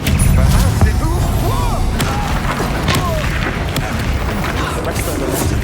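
Explosive spell blasts in the video game Hogwarts Legacy, a dense, loud run of booming impacts and crackling bursts with no pauses, mixed with other battle noise.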